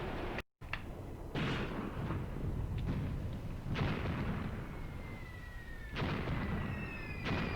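Distant artillery shells exploding in the war game Graviteam Tactics, a series of dull booms spaced a second or two apart with faint whistles, no talk.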